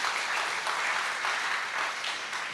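A church congregation applauding, dense sustained clapping from many hands filling the space, steady and fairly loud throughout.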